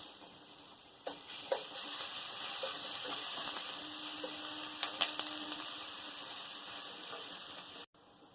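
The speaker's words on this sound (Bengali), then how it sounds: "তেল গরম হয়ে গেছে, রসুন দিয়ে দেবো।" Garlic sizzling in hot oil in a heated pan on a gas stove, a steady soft crackling hiss with occasional pops, continuous and fairly quiet throughout.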